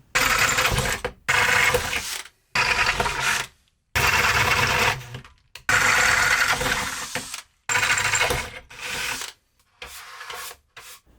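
A power drill bores holes in metal brackets for a camera dolly, a loud close whirring grind in repeated bursts of one to two seconds, each ending abruptly, with short silences between them.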